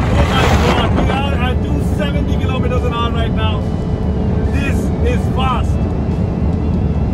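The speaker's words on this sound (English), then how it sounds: "Right now, we are doing over 250 kilometers per hour in the new A45S AMG." A 2021 Mercedes-AMG A45 S hatchback cruises at over 250 km/h, its engine and road roar forming a loud, steady drone under a person talking excitedly throughout.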